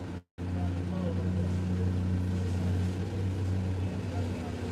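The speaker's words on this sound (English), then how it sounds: "That's a 305. You can tell because you ain't heard no exhaust drone like that since high school." A 305 V8 engine drones through its exhaust, a steady low rumbling hum close by, broken only by a brief dropout near the start.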